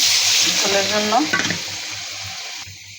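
Hot water poured into a sizzling pan of fried shrimp and radish curry, a loud hiss and bubbling burst that settles into steady frying sizzle, heard close with no talk.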